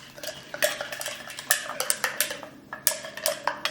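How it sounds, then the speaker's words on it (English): A spoon stirs sweetener into a hot drink, clinking and scraping against the cup in quick, uneven bursts, close and fairly loud with no talking. "it says to just stir that while it's hot"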